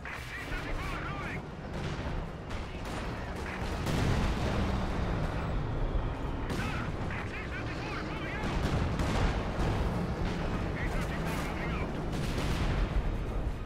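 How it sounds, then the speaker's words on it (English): Dense, continuous battle noise from Company of Heroes 2, with artillery and gunfire rumbling and crackling nonstop at steady loudness while a voice talks over it. "the range on that artillery sucks, dude!"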